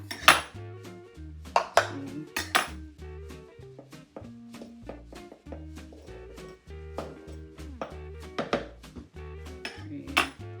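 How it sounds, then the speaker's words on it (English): A metal measuring cup of flour is leveled off with a butter knife while making chocolate chip cookies: a close series of irregular metallic clinks and ringing taps, with no one speaking. "I'm also leveling my measuring cup off with a butter knife"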